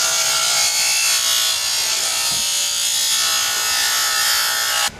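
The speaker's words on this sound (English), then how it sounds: "I'm just going to use my grinding stone, grind it all down." A grinding stone grinds down a plastic kayak trolling motor dead man switch part with a continuous, close, harsh abrasive hiss that holds steady for several seconds before cutting off.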